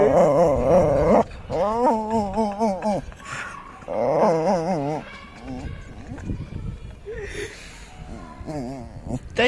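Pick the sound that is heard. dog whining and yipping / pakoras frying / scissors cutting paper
dog whining and yipping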